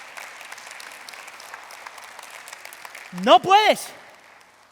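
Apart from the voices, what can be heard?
church congregation applause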